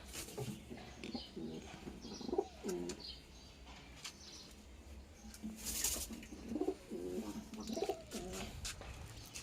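Pigeons in a loft coo in soft, low, rolling phrases, two clear bouts separated by a pause, with faint chirps and a brief rustle of wings in between.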